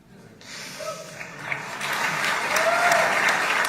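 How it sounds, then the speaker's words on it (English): An audience bursts into applause that builds after a short pause and holds steady and dense to the end, with some voices mixed in. "He deserves this applause."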